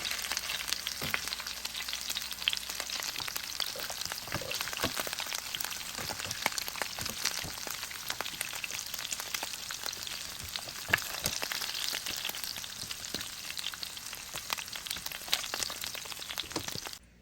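Pork baby back ribs browning in a pan give off a steady, dense sizzle with crackling pops throughout, moderately quiet and continuous, with no voices.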